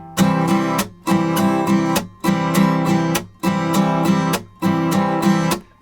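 Strummed rhythm guitar chords in a repeating groove, each bar punctuated by a sharp muted percussive chuck like a snare hit, loud and close with brief gaps between phrases.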